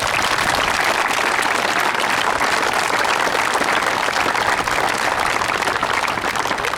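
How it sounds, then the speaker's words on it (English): Steady, dense applause from an audience at a Crawford County youth event, sustained and loud from start to finish with no voices on top. "So give them one more round of applause"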